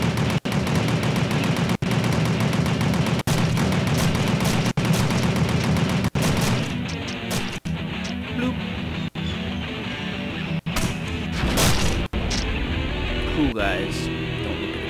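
Gunfire and explosions from the video game Apocalypse Noel form a dense, loud, continuous barrage of rumbling blasts and rapid shots that thins slightly in the second half, with sharp repeated cracks throughout.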